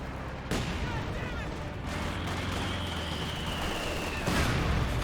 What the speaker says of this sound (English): Paratrooper still firing away